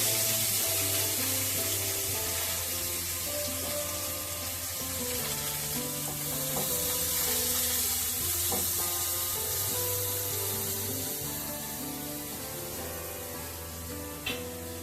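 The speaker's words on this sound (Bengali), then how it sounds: "এগুলো আমি ভালো করে ভেজে নেব। পেঁয়াজটা দিয়ে দিলাম।" Chopped onion, carrot, capsicum and coriander leaves frying in a pan for a paneer cheese sandwich, giving a loud, constant close sizzle and hiss the whole way through, with a faint scrape near the end and no voices.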